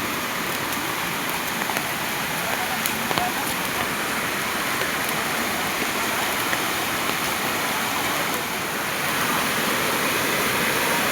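Chandve waterfall in a forest pours in a steady, full roar of rushing water, loud and unbroken throughout, with no breaks or other clear sounds.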